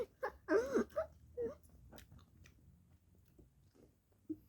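Food being chewed while eating, with a few close mouthy bites and munching at the start, then quieter chewing and a faint later crunch, with no talking.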